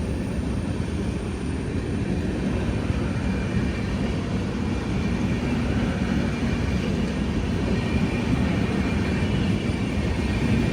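A new B1 third-AC coach on a train from Delhi Hazrat Nizamuddin gives a steady, dense rumble and roar, constant and loud throughout, with no voices.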